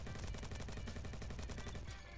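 A G36 rifle fires in the game Bad Business, a rapid burst of automatic shots in steady rhythm, fairly quiet and lasting about two seconds.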